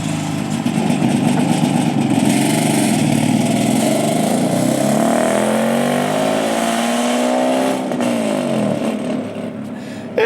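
A BMW F80 M3 engine and exhaust drone loudly for about ten seconds, rising and falling through revs with a rough, raspy tone and no talking.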